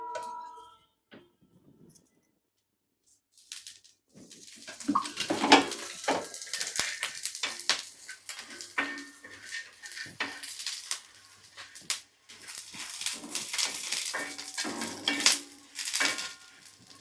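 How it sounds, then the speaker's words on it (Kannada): Dry spices fry in a little oil in a pan and are stirred, giving a steady close sizzle with the scrape and clink of a utensil against the metal, after a brief quiet start and without speech. "ಸ್ವಲ್ಪ ಎಣ್ಣೆ ಹಾಕೊಂಡು ಫ್ರೈ ಮಾಡ್ಕೊಳ್ಳೋಣ್ರಿ."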